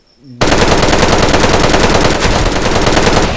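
Rapid automatic gunfire from the online shooter game Special Force 2, a loud continuous burst of shots lasting about three seconds with no talk over it.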